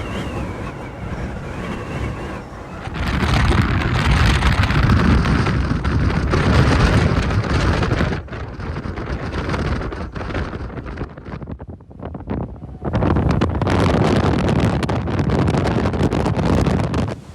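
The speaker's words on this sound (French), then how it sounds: "Quand je vous dis qu'il y a beaucoup de vent, c'est qu'il y a vraiment beaucoup de vent." Strong gusts of wind buffet the microphone out in the open at Torres del Paine park, loud roaring bursts that drop away briefly in a lull and then surge back just as hard.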